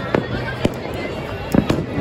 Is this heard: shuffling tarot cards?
no